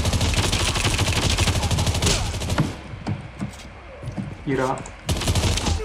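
Rapid automatic gunfire in Call of Duty Mobile, dense and loud for the first few seconds, then scattered single shots, with a short spoken comment in Hindi and another burst at the end.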